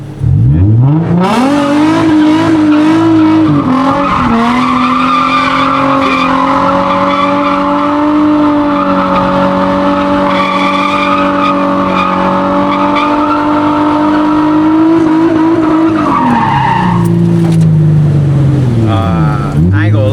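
A Nissan 350Z or Ford Mustang drifts with a loud sustained engine rev and long tire squeal holding steady for many seconds, then dropping and rising again near the end, very close and overpowering.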